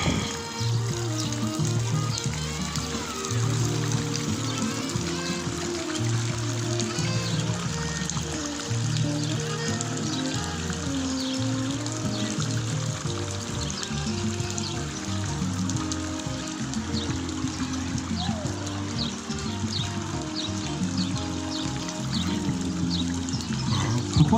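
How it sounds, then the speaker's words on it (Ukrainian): A small motor-driven fountain with a waterfall at a village wedding keeps up a steady splash and trickle of falling water, while a faint hum of background music and people runs under it. "Мотор водоспаду. Тут прекрасний фонтанчик."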